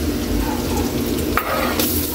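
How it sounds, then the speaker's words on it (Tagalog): Garlic and onion sautéing in a pan for a shrimp dish, a steady close sizzle and fry with stirring, continuous and loud throughout, with a brief scrape of the utensil partway through. "maluto ang ating bawang at sibuyas"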